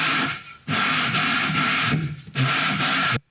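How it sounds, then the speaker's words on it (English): Sandpaper rubbed over a drum shell's bearing edge makes a close, steady abrasive scraping in three long strokes separated by short pauses, ending abruptly. "we start to see all points of the bearing edge have been touched by the sandpaper"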